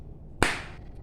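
A single sharp hand clap, a high five between two friends after a prank, rings out once in a quiet room and decays quickly.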